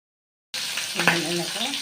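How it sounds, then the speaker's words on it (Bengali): Catfish frying in hot oil, with a steady broadband sizzle that starts abruptly after half a second of silence and continues at an even, close level. "মাছ ভাজা হচ্ছে এখানে"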